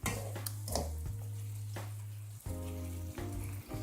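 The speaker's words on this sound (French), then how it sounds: "Donc mes tomates elles vont mijoter avec l'ail," Tomatoes simmering in a pan with garlic, onion and sausage make a continuous soft sizzle and bubbling, with a low humming tone running underneath.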